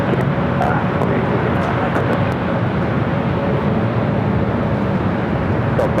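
An airliner takes off from runway 24 left at LAX, a steady, loud broadband jet roar holding at near-constant level for the whole stretch, with faint radio chatter underneath.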